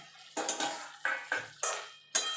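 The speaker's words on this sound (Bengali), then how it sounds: "দিয়ে একটু ভালো করে নাড়াচাড়া করে নেবো, যাতে পটলের ভিতরে সব মশলাগুলো ঢুকে যেতে পারে।" A metal spoon stirs fried pointed gourd into spice paste in a pan, giving six sharp scraping clinks in an irregular rhythm, close and clear with no talk.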